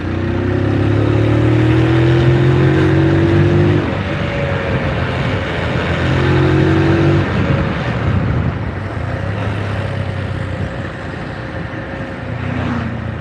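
A Mega Pro Primus motorcycle with a modified carburetor runs slowly at low RPM, its engine note rising and easing back in several loud, close revving swells.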